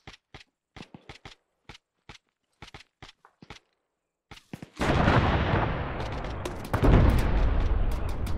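A breaching explosive charge detonating in the video game ArmA 3: after a run of sharp isolated clicks and taps, a loud sustained blast rumbles in and swells again with heavy roaring debris, close and dominant.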